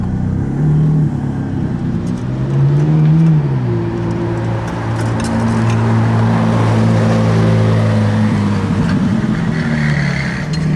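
A McLaren 675LT drives slowly out over a ridge with its lift system off, the engine a loud, steady drone that rises and falls slightly in pitch, with no talking.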